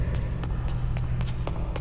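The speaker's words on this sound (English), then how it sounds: "I hear your footsteps" Rapid footsteps in Saw: The Video Game, a quick run of light, evenly spaced steps over a low steady hum.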